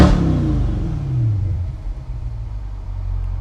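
A Chevrolet C8 Corvette with a touring exhaust revs loudly close by, its pitch dropping from a high rev into a steady deep rumble at idle, with no talking.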